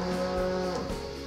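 A cow on a Yorkshire farm lets out a long, loud, close bellowing moo that fills the whole moment, with no talking over it.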